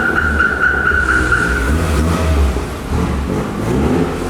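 Honda CRX exhaust revving loudly and close, a steady engine drone with a brief rising rev partway through, no voices over it.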